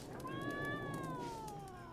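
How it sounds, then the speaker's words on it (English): A cat in the video game The Witcher 3 gives one drawn-out meow that rises and then slowly falls, heard fairly close against low background game ambience. "Not a friendly cat."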